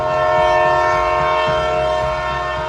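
The Katra–Srinagar Vande Bharat train in Kashmir rumbles loudly and steadily, with a sustained tonal horn-like drone held over the rolling noise throughout.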